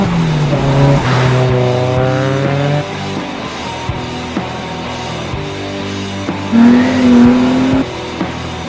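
A Nissan S14 starts moving, its engine rising and falling through a few loud revs, with a short tire chirp as it shifts position nearby.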